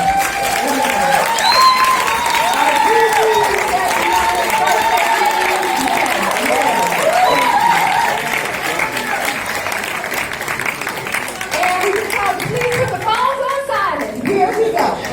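An audience at a film Q&A gives a round of applause for the crew members, a broad sustained clapping that stays loud throughout, with voices and some children's chatter mixed in and thinning slightly near the end.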